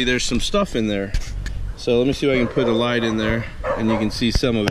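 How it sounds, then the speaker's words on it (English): A dog barks in repeated short, close bursts inside an RV during roof vent repair work, and someone talks steadily over the yips and barks. "Excuse the dog barking"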